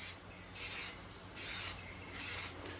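Spray coating being applied to Hyundai Santa Cruz car seats, three soft hissing bursts of about half a second each, evenly spaced and close, with quiet room noise between.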